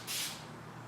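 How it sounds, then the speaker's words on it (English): Aerosol spray paint can laying a thin base coat on a truck mirror part for a 1995 Ford F350, a short close hissing burst that quickly fades into a softer lingering hiss. "I'm going to stay about 8 to 10 inches away from the part, and I'm going to spray"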